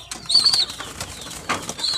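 A pigeon's wings flap in short bursts close by, with soft coos and chirps around them, loud and free of talk.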